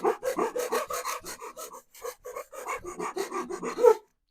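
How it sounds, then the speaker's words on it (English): A saw rasps back and forth in wood for a guitar neck with quick, steady strokes, close by, easing briefly midway as the teeth slide without cutting before the strokes resume. "The teeth stop cutting, and you can just hear a sliding"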